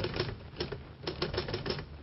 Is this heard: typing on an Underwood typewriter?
yes